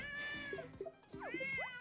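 Cartoonish cats meow repeatedly in the ComPETition video game, a quick series of rising and falling mews and chirps heard up close over a soft game background.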